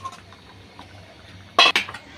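Sweet mango pieces tip into a pot of milk, giving a short, sharp clatter of a utensil against metal near the end, after a quiet stretch. No voice is heard over it.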